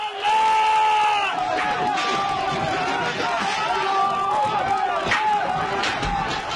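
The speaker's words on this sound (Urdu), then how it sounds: "شیخ نمر کا سر قلم کیے جانے پر تہران میں مشتعل ہجوم نے سعودی سفارت خانے پر حملہ بھی کیا" Angry crowd storming the Saudi embassy in Tehran, a dense roar of many shouting voices with chanting and cries, loud and continuous throughout.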